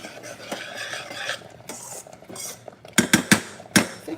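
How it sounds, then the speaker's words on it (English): A spoon scrapes and clinks against a pot as grits are stirred, soft scraping at first building to several sharp metallic knocks near the end, close by with no talking. "now stir in my grits."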